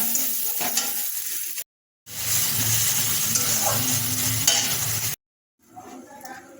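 Spiced masala with cooked-down tomatoes sizzling in a pan as water is added, a loud hissing sizzle with stirring broken by two brief silent gaps, no talking.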